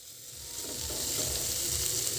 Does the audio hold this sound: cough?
no